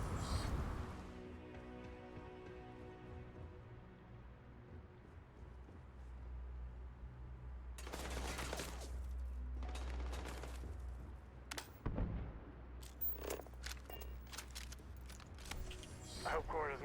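Gunfire in the video game Starfield cracks out in dense, rapid bursts amid game sounds, loud and close, with someone talking over parts of it.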